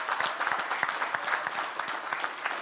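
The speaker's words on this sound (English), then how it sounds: "round of applause for these chefs and those creations" An audience claps in applause for the chefs at a California pizza contest awards ceremony, a moderate wash of many hands with individual claps standing out, continuous and without talk.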